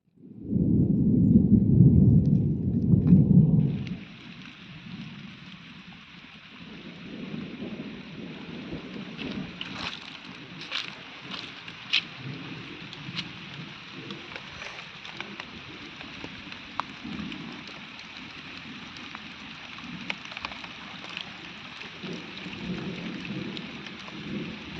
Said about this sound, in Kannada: ಮಳೆ ಬರೋದಕ್ಕೆ ಶುರು ಆಗಿದೆ.